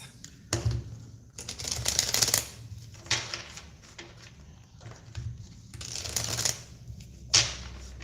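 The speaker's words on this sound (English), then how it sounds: "Just going to shuffle the cards." Tarot cards being shuffled by hand in repeated riffling bursts separated by short pauses, close and fairly quiet, with no talking.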